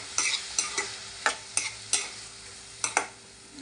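Tomatoes and onions sautéing in a pan, with a soft steady sizzle under repeated scraping stirs of a spoon against the pan, close and moderately loud, with no talking.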